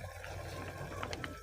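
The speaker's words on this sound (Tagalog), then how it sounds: "Lagyan natin ng konting oyster sauce." Oyster sauce poured from a bottle into a pan of simmering squid adobo gives a short, soft liquid trickle with a few faint glugs near the end, quiet and close.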